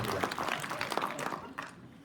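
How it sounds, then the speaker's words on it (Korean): An audience at a Korean elementary school research presentation applauds, a dense, steady wash of clapping that carries on for about two seconds and then thins out. "박수 한번 해주세요."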